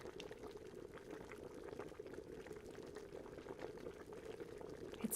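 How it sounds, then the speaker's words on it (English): A kettle of water at a steady rolling boil, with continuous bubbling and rumbling hiss running evenly throughout, close and alone with no voices. "It's the sound of a kettle boiling."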